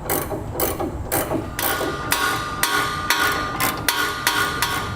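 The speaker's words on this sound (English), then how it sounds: "Now we'll tighten all our bolts on our center section to our rails." A ratchet tightens the bolts that hold the center section of a B and W underbed gooseneck trailer hitch to its rails under a 2016 GMC Sierra, with loud, close, rapid pawl clicking in repeated strokes and occasional sharp metal knocks.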